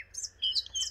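Birds chirp in short, high, bright bursts in the Roblox FNAF game, quick repeated calls close by over a faint low hum.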